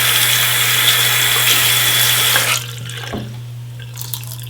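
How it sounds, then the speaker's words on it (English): Tap water streams loudly into a sink while makeup brushes are rinsed beneath it, then the flow cuts off, leaving faint drips and small handling sounds. "Keep rinsing the product completely out of the brushes."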